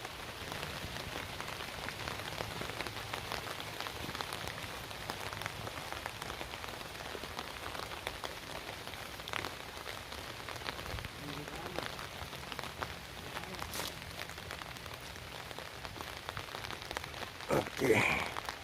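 Light drizzle falling at an outdoor spot near a mosque construction site, a steady soft patter of raindrops spread evenly across the whole stretch, with faint background activity and a slightly louder rustle near the end.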